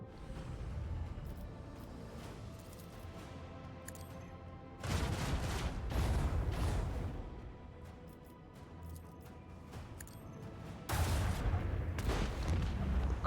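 Heavy booming blasts from attacking shields in the video game Rogue Trader, arriving in loud bursts around five and eleven seconds over a steady rumbling battle bed.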